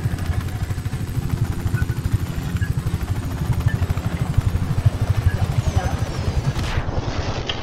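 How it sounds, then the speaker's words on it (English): Rapid, even low chugging comes from a tractor engine in the Just Cause 3 video game, running close and continuously with no pauses. "It's a tractor."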